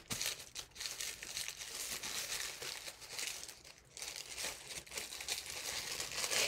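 Crisp origami paper is folded and creased by hand during a dragon model fold, giving continuous close crinkling and rustling with brief sharper creasing bursts and a short lull midway.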